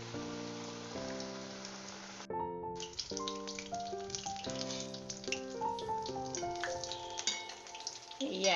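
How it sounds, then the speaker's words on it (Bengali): An eggplant fritter (beguni) deep-fries in plenty of oil in a wok, a soft bubbling hiss largely covered by prominent background music throughout. "আসলে মাখিয়ে নিয়ে তবেই আমি তেলে এটাকে ছেড়ে দেব"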